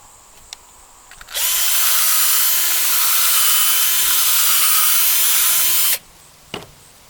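A power drill whirs steadily at close range for about four and a half seconds, drilling out a downpipe fitting near brass, then stops; brief clicks come before and after.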